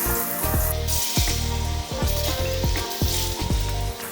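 Plantain slices frying in hot oil give a steady, loud sizzle, with repeated splashy bursts as more pieces drop into the pan.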